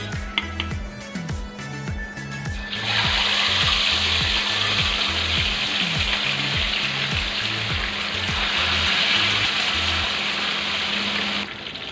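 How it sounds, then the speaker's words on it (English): Loud, continuous sizzling and crackling of fish frying in hot oil, with a rhythmic low thumping underneath early on, no voices. "It's very hot right now, so I will start frying my fish."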